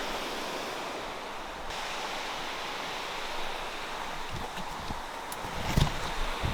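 Waterfall in the woods near Lake Tahoe, heard as a steady, broad rush of falling water throughout, with a few faint thumps and rustles toward the end.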